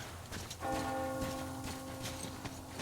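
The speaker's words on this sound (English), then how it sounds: "Do you hear that bell?" A church bell in the video game Metro Exodus strikes once and rings out, its sustained tone hanging over faint ambient movement and soft steps, moderately distant and fairly quiet.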